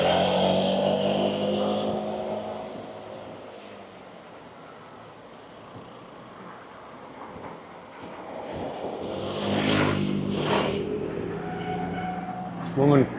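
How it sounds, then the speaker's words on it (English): A small motor buzzes up and passes by, rising then fading, over a steady traffic background with some distant road noise. "Scooter going past."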